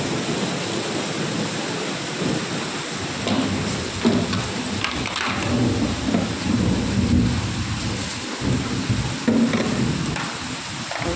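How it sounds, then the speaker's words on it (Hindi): Thunder crackles and rumbles through a heavy daytime rainstorm whose dark skies turn day to night, booming repeatedly over a constant wash of steady rain, with no voices present. "कैसे बिजली कड़क रही है।"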